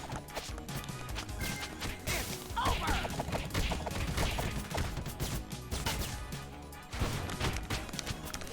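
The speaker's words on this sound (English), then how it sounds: "That's a lot of missiles." Missiles strike in rapid succession in TMNT: Shredder's Revenge, a dense barrage of loud crashing impacts and smashes layered over busy game music, with no pauses between hits.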